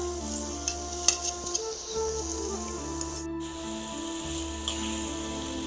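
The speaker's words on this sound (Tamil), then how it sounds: "ப்ரானை போட்டுட்டு அப்படியே ஒரு மிக்ஸ் பண்ணி விடுங்க" Prawns stirred into sizzling tomato gravy in a pan on the stove, giving a soft steady sizzle with scattered spoon scrapes and light clicks and one brief burst of louder spitting, quiet and close.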